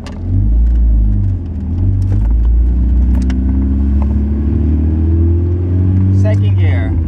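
A car with a 5-speed manual gearbox accelerating in first gear, a loud low engine rumble rising steadily in pitch from inside the cabin, with a voice talking over it.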